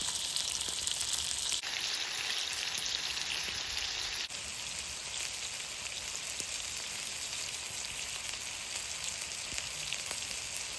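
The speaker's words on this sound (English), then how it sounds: "To fry off some nice thick pork loin that I've put some Cajun seasoning on" Thick pork loin rubbed with Cajun seasoning fries in lard at a woodland hammock and tarp camp, giving a loud, continuous, close-up sizzle and crackle with no talking.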